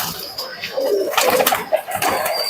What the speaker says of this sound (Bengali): দেশি গিরিবাজ কবুতর